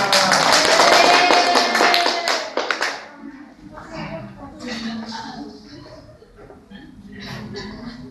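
A classroom of children in a mathematics lesson bursts into loud, quick clapping for about three seconds, then it stops and scattered chatter and chuckles follow.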